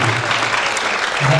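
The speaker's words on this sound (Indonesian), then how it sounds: "Disemangatkan dengan tepuk tangan dulu." Congregation applause fills a church during a wedding blessing ceremony, a steady wash of clapping that swells slightly near the end, with voices faintly under it.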